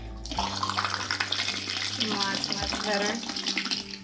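Water runs hard from a bathroom sink tap on pump pressure, a loud steady gushing splash that starts abruptly and carries on throughout, with a person speaking briefly over it.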